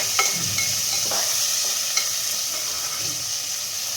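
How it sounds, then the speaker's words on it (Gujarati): Green peas get stirred into a pan of vaghareli khichdi as it sautés, with a moderate constant sizzle, a few soft spoon scrapes and a light clink or two. No one speaks. "એમાં હું આ લીલા વટાણા એડ કરીશ અને એને પણ આપણે આ રીતે મિક્સ કરી લેવાનું છે"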